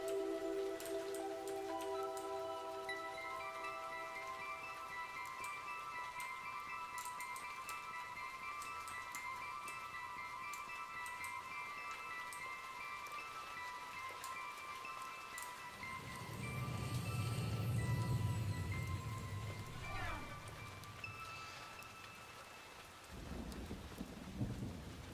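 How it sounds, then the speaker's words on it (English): A thundering rainstorm: steady rain hiss throughout with a deep rolling thunder rumble swelling in the later part, alongside faint sustained musical tones early on, all at a soft, distant level with no speech. "I would rather listen to this, like thundering rainstorm, like the sound of rain"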